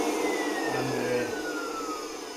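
A Henry HVR200M vacuum cleaner runs steadily and loudly up close, a continuous motor whine with a faint falling tone, with no speech.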